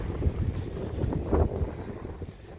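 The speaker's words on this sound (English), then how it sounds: "Very windy too." Strong gusting wind buffets the microphone outdoors at a classic car show at a bowling club, a steady low rumble that swells around the middle and holds throughout with no talk over it.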